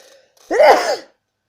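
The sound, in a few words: sneeze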